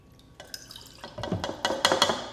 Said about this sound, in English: I'm going to toss in 2 tablespoons of white wine vinegar